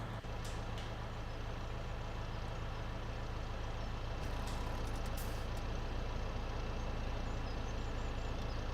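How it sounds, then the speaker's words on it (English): A truck in the Farming Simulator 17 video game on the Sosnovka map gives a steady low engine drone with a few short hissing bursts midway and no speech. "I will have to move this truck."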